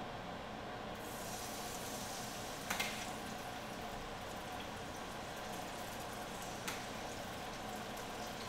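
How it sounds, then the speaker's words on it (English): Pesto chicken frying in a pan gives a steady, even sizzle throughout, moderately close, with a couple of brief clicks and no talking. "You should always hear a really nice sizzle when you put it in the pan as well."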